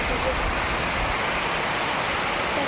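A big village waterfall pours as a constant, dense rushing hiss of falling water, steady and unbroken from start to end.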